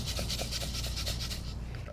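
Silica beads rattle inside the spacer of a double-pane glass window, a soft rhythmic shaking of rapid gritty bursts repeated about a dozen times, close and fairly quiet.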